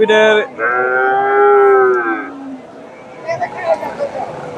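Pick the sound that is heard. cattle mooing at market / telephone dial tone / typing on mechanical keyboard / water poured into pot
cattle mooing at market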